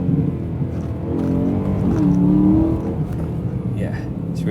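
A BMW E9x M3 fitted with a Milltek V2 valved exhaust revs steadily, its exhaust tone rising and swelling mid-clip before easing off, loud and close, with faint voices underneath.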